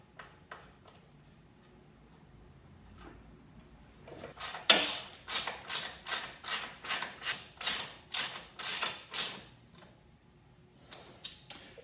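A hand ratchet tightens the top shock bolt on a Triumph Thruxton R motorcycle during a rear spring swap. After some light clatter, a steady run of about ten close, crisp clicking strokes follows, then a few faint knocks.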